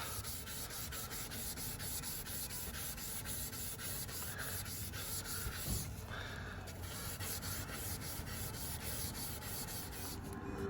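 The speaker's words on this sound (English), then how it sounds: "now good scrubbing with this, what they call a sanding disc" Continuous abrasive rubbing of a sanding disc against a van's sliding door rail, a steady close-up scratchy friction with slight variations in pressure.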